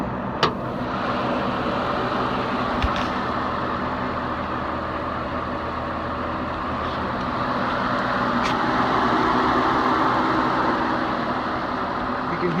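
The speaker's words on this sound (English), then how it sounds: "You can hear there's just the tiniest of lifter tick in there." A Mitsubishi 3000GT VR4 engine idles steadily, a close, continuous low rumble with only the faintest lifter tick, no talking over it.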